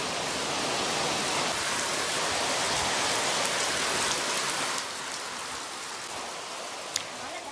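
Heavy rain pours steadily in Kerala, a dense, loud, continuous hiss of drops on surfaces with no pauses, easing slightly toward the end with a single sharp tap near the close.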